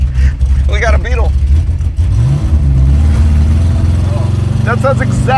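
Rough-running air-cooled Volkswagen Beetle engine idling unevenly, a low lumpy drone close by that persists throughout while several people talk over it.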